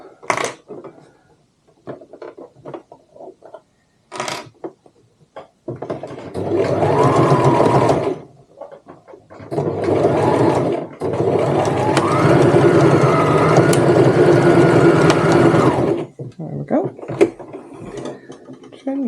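A sewing machine stitches a tote bag strap in several bursts of running, the longest a steady whir lasting several seconds, broken by short pauses and mechanical clicks, with no talking.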